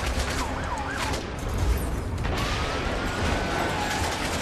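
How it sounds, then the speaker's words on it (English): A police car siren sweeps through the scene in the Amazing Spider-Man video game, wailing up and down over steady city noise and mechanical clatter, loud as it passes close, with no talking. "I'm pretty sure a police car just went through us there."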